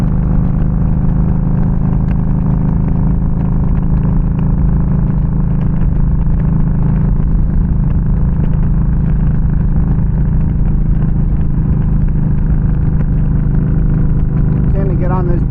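A Yamaha V Star 1300 Deluxe cruiser motorcycle rumbles steadily at riding speed, a loud continuous low engine drone with wind noise, while a rider talks over it.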